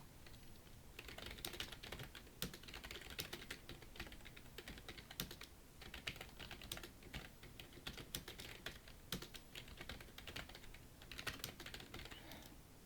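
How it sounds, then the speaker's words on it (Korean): Rapid typing on a computer keyboard with sharper Enter key presses, steady close clicking throughout with no voices. "그래서 또 엔터를 치겠습니다."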